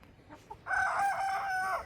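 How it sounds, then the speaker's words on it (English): A young rooster on a garden patio crows once, a loud, close, strained cock-a-doodle-doo lasting about a second after a brief quiet lead-in. "He's starting to sound like a rooster."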